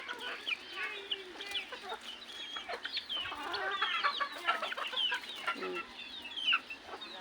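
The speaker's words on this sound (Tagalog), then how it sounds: "Ito yung tandang ang promotor na matapang na tandang eh." Chickens cluck continuously in a busy flock, with a rooster's clucks among them, near and lively with irregular bursts of calls.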